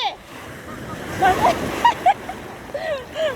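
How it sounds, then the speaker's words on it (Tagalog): Ocean waves crashing and splashing around swimmers at the shore, a near wash of surf under excited voices and shouts that cut in repeatedly. "Ang hampas ng alon."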